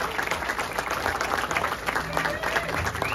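Audience applause at the opening of an international sculpture symposium in Saint-Georges, Beauce, Quebec: steady dense clapping from a crowd throughout, with voices mixed in.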